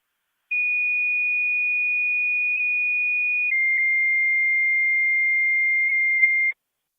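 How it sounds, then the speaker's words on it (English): A Niagara County fire dispatch alert sounds as a loud, steady two-tone page: one long pure tone shifts to a slightly lower second tone, which holds for several seconds before cutting off abruptly. "Additional tones for an EMT to your station for the ambulance standby."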